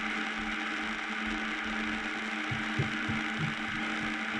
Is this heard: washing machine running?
yes